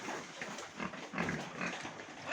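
Piglets about three and a half months old grunt and snuffle continuously at close range, a busy, low, rough chorus of soft oinks with no talking.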